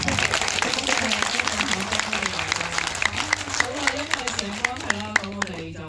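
A cinema audience at a thank-you screening of the film 拼命三郎 claps, a dense patter of many hands under a voice speaking over a microphone, steady throughout.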